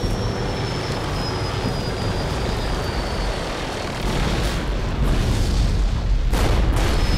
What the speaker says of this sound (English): Hey, stop bombing us.